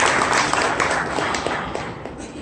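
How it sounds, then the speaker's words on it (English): A crowd at the launch event for the TVS Apache RR 310 motorcycle claps, a fairly loud patter of hands that gradually thins out over a couple of seconds. "Let's give them a big round of applause,"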